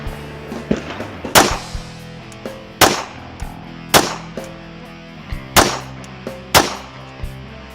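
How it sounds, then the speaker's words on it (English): Pistol shots from a Glock or HK fired on a range, several sharp loud cracks spaced a second or more apart, each with a short ringing tail, alongside a few fainter clicks and knocks. "We'll do just a 5-shot, no time limit."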